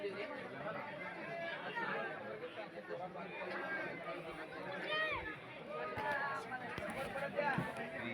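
Dense crowd chatter fills the Akkalkot temple, many overlapping voices forming a steady, close murmur throughout.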